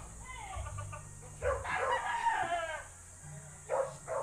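A chicken crows in the open, followed by bursts of clucking, set at a rural Filipino fiesta where it is about to be cooked into chicken pastel; the calls are fairly close and moderately loud over a low background hum.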